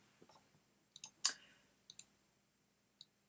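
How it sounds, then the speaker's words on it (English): Mouse clicks selecting the text tool in Silhouette Studio software: a handful of short, crisp, close clicks spread over about three seconds, with one louder click in the middle and quiet gaps between them. "I'm going to click the text tool on the left side of the screen"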